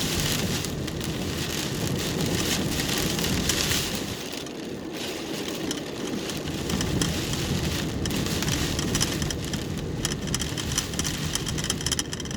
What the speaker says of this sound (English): I didn't even know we were supposed to get rain tonight.